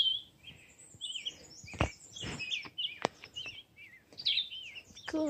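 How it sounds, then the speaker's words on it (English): Several birds chirp and trill in varied, overlapping phrases in a forest on the Appalachian Trail, fairly close and clear against a quiet background. "but I can hear the birds and the bees."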